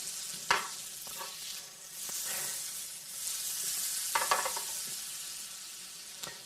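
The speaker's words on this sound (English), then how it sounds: "I'm just letting the butter melt, and I want to foam up and stop foaming and sizzling before I put my eggs in" Butter melts and foams in a pan ahead of eggs, giving a soft, steady sizzle with a few sharper crackles and pops rising over it, with no voices.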